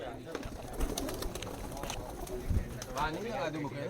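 Soft, low cooing of pigeons at a pigeon keeper's loft in Allahabad amid background chatter and general noise.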